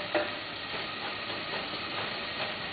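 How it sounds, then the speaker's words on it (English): Chicken stock hits a hot pan of browning garlic, giving a steady close sizzle and steamy hiss with faint stirring scrapes throughout. "and I'll put the stock in there"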